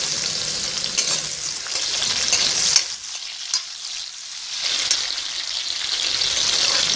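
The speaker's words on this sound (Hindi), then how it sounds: "ये प्याज जब तक ब्राउन ना हो जाए तब तक हम इसको फ्राई करते रहेंगे।" Onions and chilli frying in a pan with ginger-garlic paste, giving a steady broadband sizzle that dips briefly midway, close and fairly loud with no talking.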